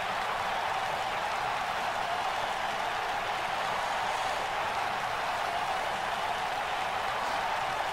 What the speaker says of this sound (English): And the crowd loves the Macho Madness.